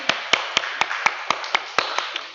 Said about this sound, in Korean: 우리 큰 박수로 하나님께 영광 올려드립니다.